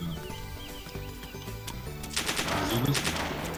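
Rapid bursts of gunfire crackle over a busy soundscape in DayZ Standalone, growing denser and louder toward the end.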